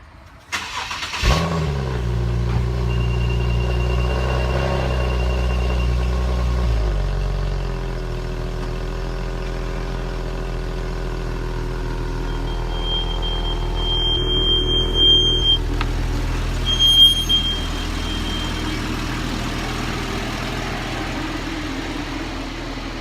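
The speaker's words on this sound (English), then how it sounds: "let me back up the car" A Nissan 370Z engine starts with a sharp catch, then settles into a steady close idle while the car is slowly backed up, the low hum continuing evenly with small shifts in pitch.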